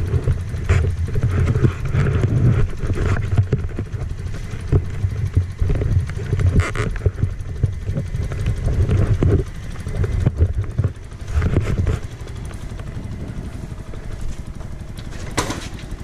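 Junak 902 49cc chopper-style moped engine running steadily with a low, uneven putter throughout, loud and close, with small dips in level toward the end.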